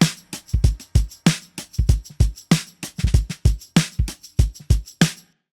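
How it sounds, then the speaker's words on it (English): A steady rhythmic percussion loop with bright jingling tambourine shakes riding over kick-like thumps, repeating evenly for several seconds before stopping. "Throw in some tambourine."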